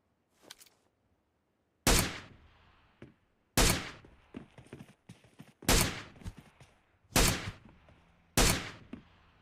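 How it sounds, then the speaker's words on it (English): Unsilenced gunshots in the video game PUBG Mobile, with five loud, sharp single shots spaced about every second and a half, each trailing into a short echo, plus faint clicks between. "That's what the gun sounds like without the silencer."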